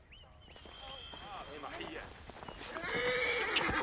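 Horse in the video game Assassin's Creed Origins whinnying repeatedly, its calls rising and falling, over steady clip-clop of hooves and game ambience, with voices shouting across the scene.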